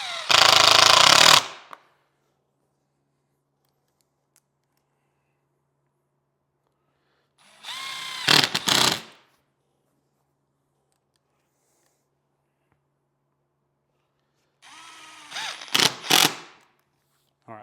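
A power drill drives screws into a 6x9-inch speaker cut kit for a 2014-2023 Harley-Davidson, heard as three separate loud, buzzing bursts of about a second each, with silence between them.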